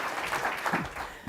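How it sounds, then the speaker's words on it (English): Audience applause for Howard Berman at a policy conversation with Representative Karen Bass, a short burst of clapping with a few louder swells and a voice-like murmur mixed in. "We need to give Howard Berman a round of applause."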